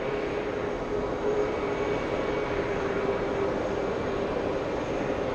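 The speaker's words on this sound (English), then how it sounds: "747 heading to 31 left, trying to catch up to that 777 taxiing in front of it." A Boeing 747 airliner taxiing toward runway 31 left at JFK airport, heard as a steady, loud, continuous jet engine roar and whine that holds level throughout with no voices.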